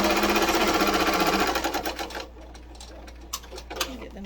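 A sewing machine stitches pillow fabric with yellow thread in a rapid, steady close-up whir, then slows and stops halfway through, leaving a few light clicks and knocks.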